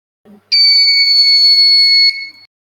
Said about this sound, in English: The beeper is beeping,